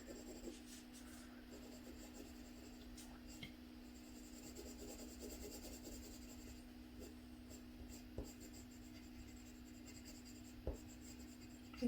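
Colored pencil burnishing the shaded side of a drawn face's nose on paper: a steady, faint scratchy rub of pencil strokes running continuously and close, with a few soft taps and a constant low hum underneath.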